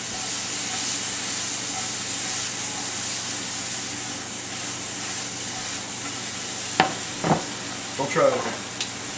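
Mushrooms and vegetables fry in a pan with a steady, even sizzle and hiss, near and moderately loud, with a few brief clatters and a short spoken remark near the end.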